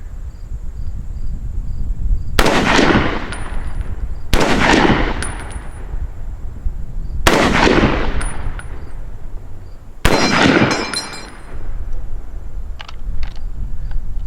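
Four loud, sharp M1 Garand rifle shots fired offhand from a concrete bench at an outdoor range, evenly spaced about three seconds apart, each with a long echoing decay and no talking.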